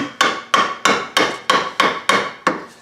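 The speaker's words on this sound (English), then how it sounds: "So I've created a little gap there so it's safer to chisel. I just tap lightly." A chisel is tapped lightly into wood for a model boat: eight crisp, evenly spaced knocks, close and clear, each fading quickly, with no talking.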